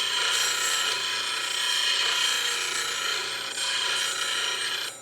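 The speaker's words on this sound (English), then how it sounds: "that's a long time on the grinder" Knife steel is ground against a very coarse CBN grinder wheel, making a continuous rasping, hissing grind that holds steady throughout with slight swells in intensity.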